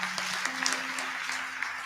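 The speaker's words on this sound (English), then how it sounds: "Please give him a round of applause." An audience at a boys' summit breaks into steady, sustained applause, a dense crowd of clapping hands at moderate distance, with a faint voice and a low hum underneath.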